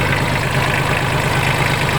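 A four-cylinder, four-wheel-drive mini tractor engine idles close and loud, a steady dense rumble with even mechanical chatter and no change in pace.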